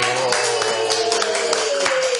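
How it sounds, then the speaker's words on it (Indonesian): Audience hands clapping at a police talk show, a brisk burst of close claps over a steady tonal hum, with no voices. "Tepuk tangan lagi."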